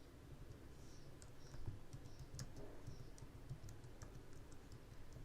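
Steady clicking of fingers typing on a computer keyboard while entering code, a run of light, even keystrokes at close range with no talking.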